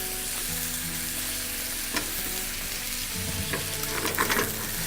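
Mushrooms sauté in a hot pan with a steady sizzle and frying crackle, stirred now and then with scraping and clinking near the end, close and moderately loud, no talking.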